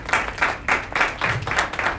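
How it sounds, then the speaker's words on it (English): Audience at an African entrepreneurship event claps as a man steps on stage, short bursts of applause pulsing in uneven waves, moderately close. "A round of applause as he steps on stage."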